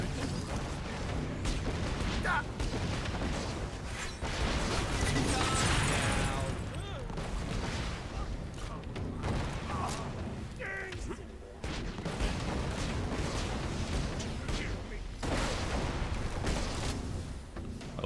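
Torgue assault rifle fire in Borderlands: The Pre-Sequel, dense bursts of loud explosive shots and crashes running steadily throughout, with a voice talking over parts of it.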